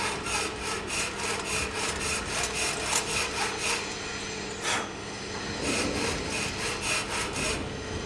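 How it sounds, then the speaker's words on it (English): A sharp file scraped back and forth across the frame of a TNN HS33 hydraulic brake setup, with steady repeated strokes about twice per second, close and dry with a gritty metallic rasp that runs alone for the whole stretch. "get a sharp file and just put it on top like so"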